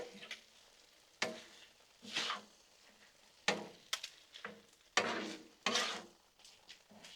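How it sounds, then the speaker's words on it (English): Beef and broccoli in sauce sizzle on a Blackstone griddle while a spatula scrapes and stirs in irregular bursts, with quieter frying between the strokes. "So take this, mix it up over all that goodness."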